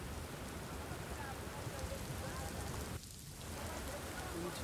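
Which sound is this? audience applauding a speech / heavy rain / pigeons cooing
heavy rain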